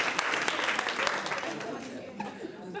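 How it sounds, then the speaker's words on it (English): A crowd breaks into steady applause, dense clapping filling the room, with some chuckling and voices mixed in. "That deserves a round of applause."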